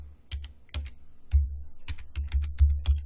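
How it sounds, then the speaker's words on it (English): Fingers typing a password on a computer keyboard, a quick run of close, crisp key clicks in uneven bursts with heavier thumps, loud and alone. "I'm going to type in that user's password and hit enter"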